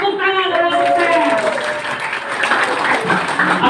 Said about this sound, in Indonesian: Luar biasa, tepuk tangan untuk sukses.